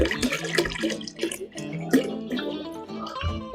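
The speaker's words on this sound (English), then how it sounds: "So we're gonna add a little bit more water," Water poured in short splashing bursts into a mead fermenter, close and fairly loud, with bubbly gurgling between pours and no speech.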